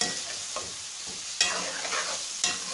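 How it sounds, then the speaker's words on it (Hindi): Boneless chicken frying with onions in a pot gives a steady, close sizzle, broken by occasional clanks as the mixture is stirred, with no talking. "चिकन को हमने 5 से 10 मिनट भूनना है इसमें प्याज़ों में।"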